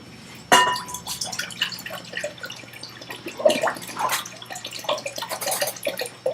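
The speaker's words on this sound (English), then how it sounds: "Just pour the whole thing in." Vinegar mother liquid is poured into a container, giving splashy, gurgling trickles and drips with a sharp initial splash, close and fairly loud.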